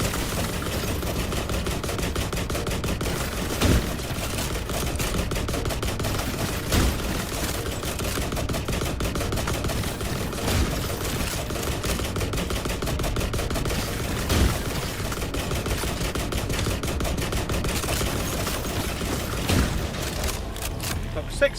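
Gunfire in The Last Caretaker video game: a steady, unbroken stream of rapid shots and clattering mechanical noise, loud and close, sustained throughout without pauses, with speech faintly mixed in.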